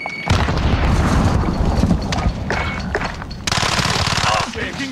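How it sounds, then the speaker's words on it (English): Grenade blast and sustained gunfire in Call of Duty: Modern Warfare, a dense, loud barrage of rapid shots and booms with no letup, with a fresh burst of firing near the end. "Throwing grenade!"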